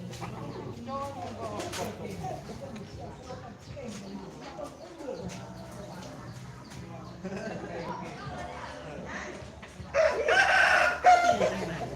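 Chickens cluck and a rooster crows amid people talking nearby in a southern Laos village, with a louder burst of crowing and commotion near the end.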